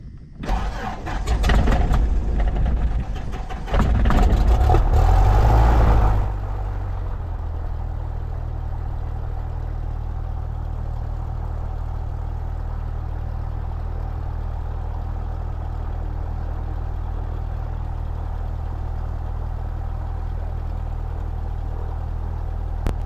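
A Cessna 172 engine cranks and catches over about six seconds with loud sputtering bursts, then settles into a steady low propeller drone for the rest.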